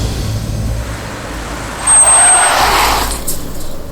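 A vehicle braking to a stop, with low engine rumble giving way to a loud hissing, squealing brake burst in the middle that then eases off.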